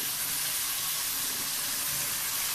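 Onions with green chilies fry in a pan for a chicken and potato curry, giving a loud, dense, unbroken sizzle that fills the whole moment, close up, with no talking.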